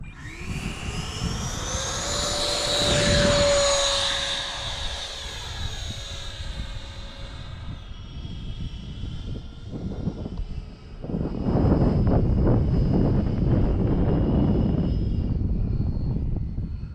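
An E-flite FJ-2 Fury RC jet's electric ducted fan whines overhead on a windy day, its pitch sliding as the jet passes and then returning as a broad, rushing whoosh.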